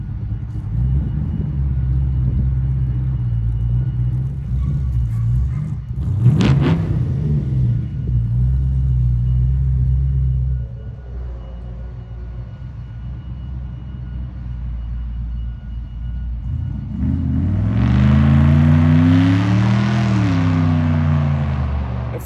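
A 461 cubic-inch Pontiac stroker V8 topped with a tunnel ram idles with a loud, steady low rumble, then revs up near the end in a rising, throaty roar.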